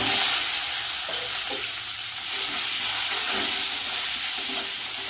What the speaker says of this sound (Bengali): আলু আর ফুলকপিটা একটু লাল লাল করে ভেজে নেব